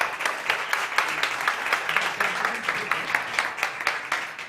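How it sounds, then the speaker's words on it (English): An audience at a startup competition stage claps for the next presenting team, a moderately loud, even patter of individual hand claps from a modest crowd, continuous across a few seconds with no speech. "Please give them a round of applause."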